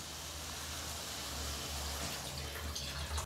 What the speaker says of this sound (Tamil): இப்போ இது கூட தண்ணி சேர்த்துடலாம்.